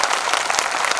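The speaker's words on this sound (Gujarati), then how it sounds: "જોરદાર તાળીથી આપણે વધાવીએ." Loud, sustained applause from an audience at a religious memorial festival gathering, a dense wash of clapping filling the whole moment with no voices on top.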